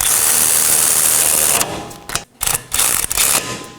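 A ratchet or power tool drives down the 18mm caliper bracket bolts on a 2018-2024 Chevrolet Equinox 1.5L. A close, loud, steady whirring runs for about a second and a half, then breaks into short choppy bursts with gaps.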